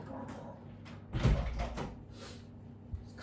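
A kitchen door is opened and shut to let a dog outside on a cold, windy day, giving a muffled thump and rattle mid-clip followed by a softer knock, fairly quiet and close.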